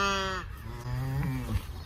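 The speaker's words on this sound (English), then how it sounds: "Look at this cow right here." A farm animal on a farm gives one drawn-out bleat-like call, close and fairly clear, followed by a shorter second call.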